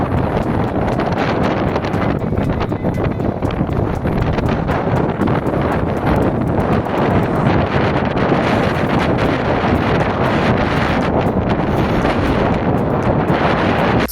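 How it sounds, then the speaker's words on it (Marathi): Strong gusting wind buffets the microphone on hill-climb steps near Chikmagalur, a loud, dense, unbroken roar that runs the whole way through with no pause in the rumble. "बट वाऱ्याचो प्रेशर इतलो आसलो आमच्यान थंय सारकी चलपा जायनासली"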